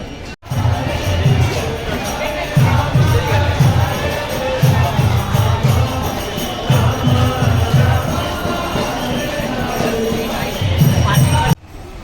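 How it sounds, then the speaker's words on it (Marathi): A busy Sunday crowd fills an ISKCON temple during aarti, a loud hubbub of voices with rhythmic low drumming or chanting pulses repeating throughout. "आज रविवार असल्यामुळे खूप गर्दी आहे"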